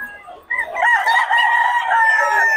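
A rooster crows loudly nearby, a long drawn-out call with other fowl clucking beneath it.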